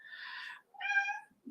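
A house cat meows indoors, two distinct close mews in quick succession, followed by a brief low chirp, with no talking.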